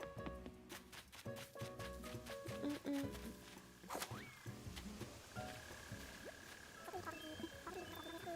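Frogs croak in the Animal Crossing video game, repeated short clicky calls in an uneven rhythm over soft ambient game music and light tapping sounds, fairly quiet throughout.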